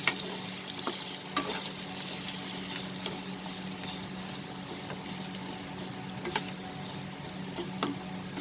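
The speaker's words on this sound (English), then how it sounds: "Put the flame into medium and fry the potatoes till they are nice and soft." Potatoes fry over a medium flame, a soft continuous sizzle with occasional light clicks and scrapes of stirring, fairly quiet and with no voices.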